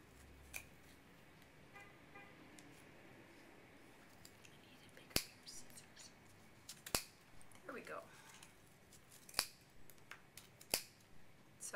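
Heavy scissors snip through yarn on a pom-pom maker several times at irregular intervals, crisp sharp cuts against a quiet background with faint rustling and low speech.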